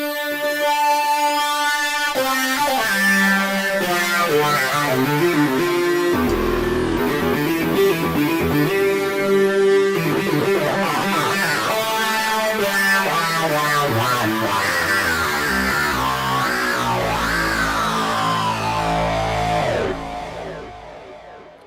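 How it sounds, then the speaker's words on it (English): Hyperion modular synth plugin plays a sustained lead, bright tones shifting and gliding over swelling lower notes, loud and continuous before fading out at the end. "It's a modular synth, and it sounds like this."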